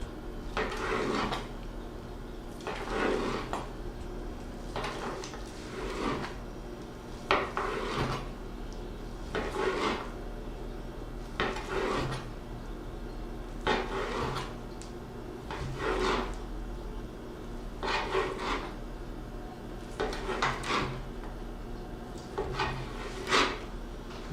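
Smoked ham being sliced thin with a knife for Pittsburgh and Miami-Cuban sandwiches, giving a series of regular, fairly close slicing strokes about every two seconds over a low steady background hum.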